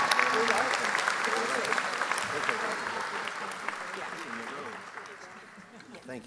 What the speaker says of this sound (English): Please join me in a round of applause as we welcome Pastor Jaime Garcia.